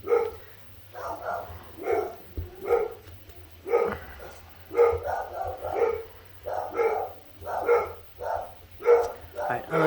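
Several dogs bark repeatedly in a steady run of sharp, evenly spaced barks, fairly close and loud throughout, with no talking over them.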